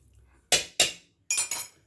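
Metal utensil striking a pan while stirring a spaghetti mixture with cream cheese and ricotta, four sharp clinks in two quick pairs, close and bright over a quiet kitchen.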